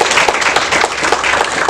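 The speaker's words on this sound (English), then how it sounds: "Let's give that a round of applause." An audience claps and applauds loudly for a brief stretch, a dense patter of many hands at steady volume.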